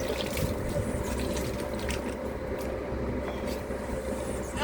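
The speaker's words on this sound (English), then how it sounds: "I'm gonna drop a little water in there." Water trickles and splashes softly into a potted houseplant, a faint, steady pour set against a quiet room with no talking.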